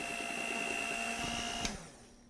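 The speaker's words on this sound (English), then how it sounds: "you just want to mix it till it's a nice smooth batter" Lemon ricotta cake batter is mixed with a steady whirring motor hum that runs evenly, then cuts off near the end, leaving a quieter tail.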